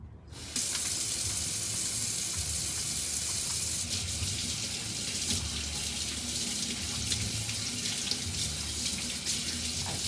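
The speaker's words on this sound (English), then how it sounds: "Always rinse off the meat." Tap water runs steadily into a sink while meat is rinsed, a continuous close hiss and splash that starts abruptly after a brief quiet moment, with no talking.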